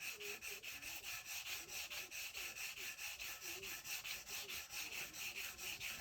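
Rhythmic, even strokes of a sanding block rubbing back and forth over a surface, soft and close, repeating at a steady pace with no talking.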